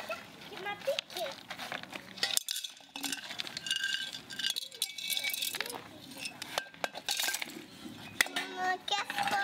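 A child knocks over and rattles a saucepan and pots, making scattered metallic clanks, clinks and scrapes. Voices talk over the clatter.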